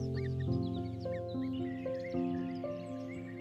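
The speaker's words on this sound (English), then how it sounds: "It continues to demand food restlessly through intense sound signals." Cuckoo chick raised by foster parents begging for food, a run of insistent tonal calls repeated in quick succession, fairly close and alone.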